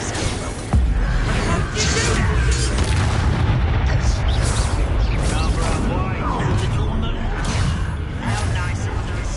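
Bombarda blasting spell explosions in Hogwarts Legacy go off as loud, deep booming blasts, one after another, over a continuous rumble of game combat for the whole stretch.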